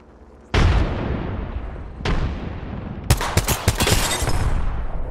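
A grenade bursts loudly in the Apex Legends game, followed by a second blast and then a rapid run of close gunshots, with no talk.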